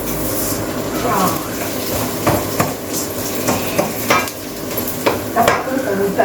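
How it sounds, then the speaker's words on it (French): Rice toasting in olive oil in a pan, stirred with a steady sizzle and repeated scraping strokes over a continuous crackling bed; some voice may be present. "On va mettre un petit peu d'huile d'olive. On va perler notre riz de manière à ce qu'il ne colle pas."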